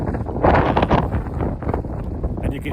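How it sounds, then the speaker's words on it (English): Strong wind gusts through a mountain gully in the High Sierra, roaring and buffeting the microphone in loud, uneven bursts that swell and ease without a break. "And you can hear how windy it is, and we're in the gully, and it's still super windy."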